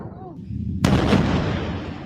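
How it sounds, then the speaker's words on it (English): An explosion from a drone attack in news footage, a sudden loud blast that follows a quieter rumble and then trails off into a sustained roar of noise. "Oh, look at the explosions."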